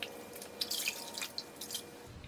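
Water drips and trickles as a car wash mitt is rinsed, faint splashes and patters scattered over a soft steady background with no talking.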